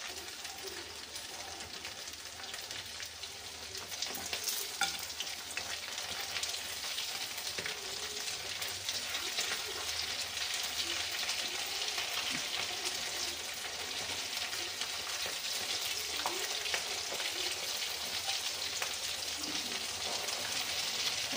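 Sabudana vada deep frying in hot oil, a steady, dense sizzle and crackle that holds evenly throughout at moderate closeness with no talking.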